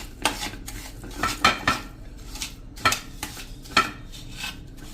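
A spoon clinks and scrapes against a bowl while powdered sugar is mixed into cream for a mesub sweet, with irregular close-up taps and stirring strokes and no talk.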